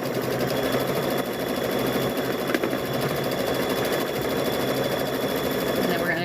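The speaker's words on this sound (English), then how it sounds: "So we're going to sew this one down." A sewing machine stitches a quilt block for a thread catcher, running in a steady, fast mechanical whir with a slight rhythmic pulse and one brief pause, close by and continuous.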